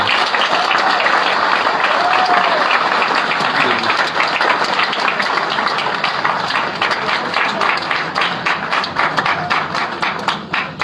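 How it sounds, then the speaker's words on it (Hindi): An audience claps in sustained, dense applause, loud and steady for several seconds before gradually thinning toward the end. "कम से कम एक जोरदार ताली तो बजती है।"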